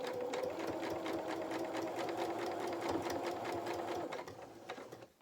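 Sewing machine running steadily as it stitches the body seam of a fabric otter toy, passing over a thicker section of seam allowance; a continuous close mechanical whir that slows and stops near the end.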